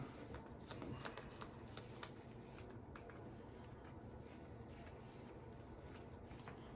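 A Magic: The Gathering card deck is shuffled at a tournament table, a soft continuous riffling with scattered sharp card snaps, faint and alone.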